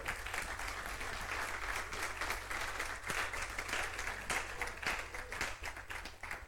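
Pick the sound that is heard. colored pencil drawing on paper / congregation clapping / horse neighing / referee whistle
congregation clapping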